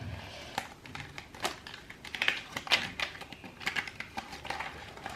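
A deck of oracle cards is shuffled in several quick bursts of papery riffling and flicking, close and fairly quiet, with short pauses between the flurries and no speech.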